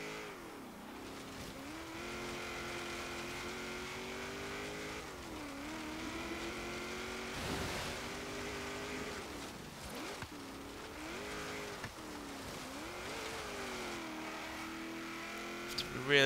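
A 1988 Holden VL Commodore Group A SV engine drones at high revs through an autocross run, pitch rising and dipping repeatedly as the throttle is worked, loud and continuous throughout.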